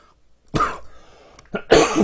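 Two harsh coughs close to the microphone from a man with a lingering post-COVID cough, a short one followed after a brief gap by a louder, throatier one.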